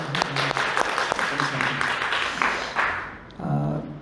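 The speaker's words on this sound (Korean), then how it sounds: "하나님 영광의 박수 올려드립니다" Church congregation applause during a Sunday worship service, a brief burst of clapping from a modest crowd with voices mixed in, fading out near the end as talking resumes.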